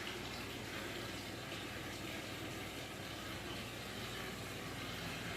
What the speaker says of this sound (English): Sorry for the water draining in the background.